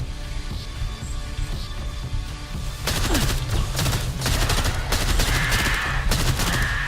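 Rapid, dense gunfire in the video game STRAFE Millennium Edition erupts after a quieter stretch and keeps rattling in fast bursts over a steady rumble of background game noise.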